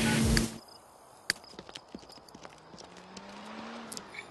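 A horse in The Sims 3 video game clip-clops along, with a burst of noise at the start and then steady, evenly spaced hoof taps over a quiet game background.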